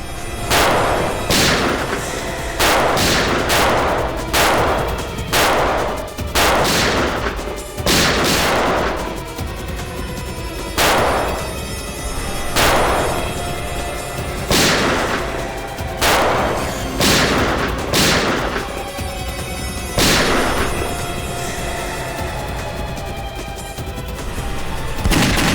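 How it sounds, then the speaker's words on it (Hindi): Gunshots ring out again and again over the full length, loud sharp cracks in irregular bursts, some spaced apart and some in quick clusters, with a constant rumbling din behind them and no talking. "गोली चला।"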